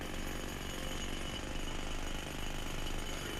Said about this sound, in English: there's some guys working here with jackhammers and excavators, they might be loud enough not to have our shots heard